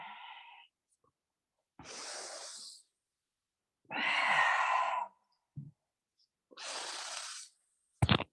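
Slow, deep breathing during a vinyasa yoga flow: four separate close, soft breaths with silence between them, followed by a short final puff.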